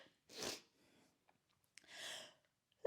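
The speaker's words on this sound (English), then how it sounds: "Oh, I'm going to sneeze." Two sharp nasal bursts, a sneeze-like blast followed by another about a second and a half later, close and fairly quiet against near silence.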